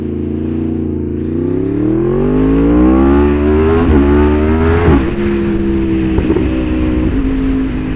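Yamaha R1 sport motorcycle engine revving up, its pitch climbing steadily before a burst of gear-change blips, loud and close with no talking.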